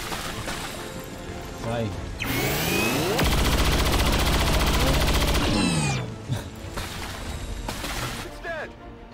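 Gunfire in XCOM 2: War of the Chosen comes in a dense sustained burst of shots in the middle, framed by whooshing effects and a brief spoken word.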